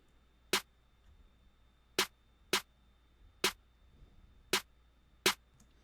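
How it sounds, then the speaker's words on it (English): A basic trap-beat clap pattern: six sharp, isolated clap hits in a sparse, slightly off-grid rhythm over near silence, each snapping bright and dry. "Very basic clap pattern, nothing too crazy."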